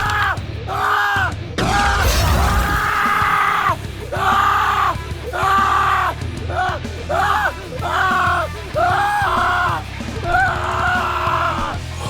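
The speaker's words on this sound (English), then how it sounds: "I get chills every time I hear that scream." A voice in a Halo video game cutscene lets out a series of strained, anguished yells and roars, rising and breaking in repeated bursts over a rumbling background, loud and close throughout.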